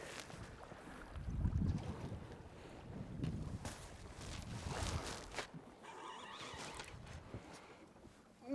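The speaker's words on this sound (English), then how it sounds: "I'm keeping the boat moving for a reason." A fishing boat moving across a lake, with a steady wash of wind and water against the hull and a low rumbling motor underneath, fairly close and uneven in loudness, with no voices.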